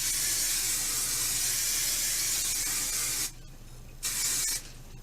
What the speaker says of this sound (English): And we're just going to spray all these curls.